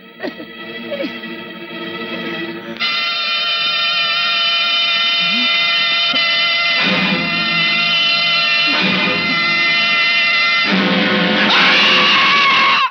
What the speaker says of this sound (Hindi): साला बहुत जोर में चीखता है, बहुत जोर में चीखता है